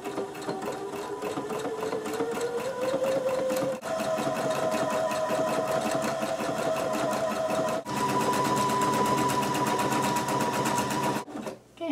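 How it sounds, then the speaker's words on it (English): A sewing machine runs a zigzag stitch along the raw edges of a knit sweater, a loud, steady, fast mechanical whir with brief pauses and slight changes in motor pitch. "do a zigzag stitch all around our edges to keep it from fraying"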